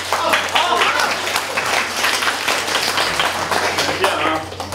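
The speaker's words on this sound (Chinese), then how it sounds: "感谢大家热烈的掌声" Warm, sustained clapping from a comedy-show audience, a thick wash of hands that holds strong for nearly five seconds over a faint low hum.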